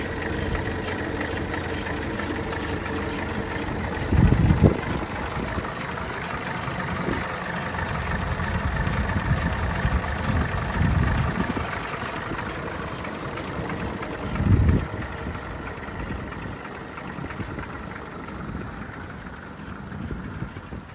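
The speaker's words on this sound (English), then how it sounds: "Listen to this motor." A 1937 Packard 1501 convertible engine idling, a steady low rumble held close and even throughout, with a couple of brief louder swells, no voices.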